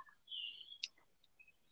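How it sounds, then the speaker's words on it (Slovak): Faint birdsong drifts in from outdoors, a thin sustained whistle followed by a few short chirps and tweets at a distance over a quiet background. "aby si žienky užili ten spev vtákov, ktorý ja počujem tam od teba, Andrejka."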